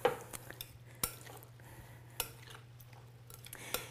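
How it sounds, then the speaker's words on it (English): A spoon stirs corn salad with black pepper in a bowl, giving a quiet run of scattered clinks and scrapes against the bowl, with a few sharper knocks standing out. "And then stir it all together."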